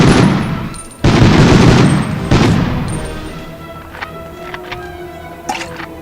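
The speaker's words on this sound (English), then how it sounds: "More people shooting fireworks off." Fireworks going off in bursts while a Medal of Honor game plays, with several heavy booming blasts early, then scattered crackles and pops fading into quieter distant bangs.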